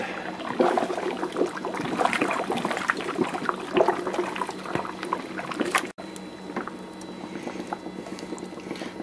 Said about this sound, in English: Time to stir it.